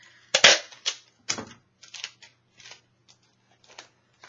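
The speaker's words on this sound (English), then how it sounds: "And I put tape on each side." Packing tape pulled and pressed onto the wrapped edges of a canvas painting for shipping, a sharp close rip followed by a series of smaller crackles and taps fading out in near silence.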